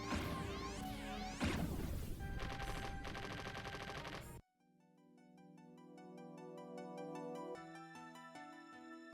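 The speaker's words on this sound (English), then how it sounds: "Typhon will explode" Explosions of the boss Typhon fill the arcade shooter Phelios with rapid, crashing bursts for about four seconds, then cut abruptly to bright chiptune music that plays on alone.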